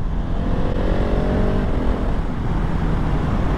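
Husqvarna 701 motorcycle riding along twisty roads, its engine a steady, loud drone throughout with slight rises in pitch, plus road and wind rumble, no voices.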